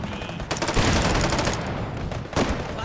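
Rocket jump explosion in a VR shooter game, a loud dense blast of booming gunfire-like bursts that fills the moment, with a second sharp burst near the end.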